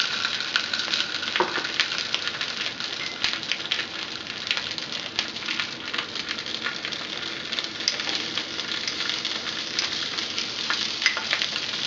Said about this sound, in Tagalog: Once na mag-melt na yung butter, ilalagay na natin dito yung rice, yung kaninang naluto natin na pork tenderloin chop,